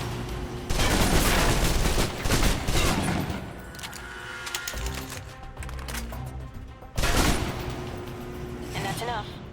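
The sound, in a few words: submachine gun fire in the video game Alpha Protocol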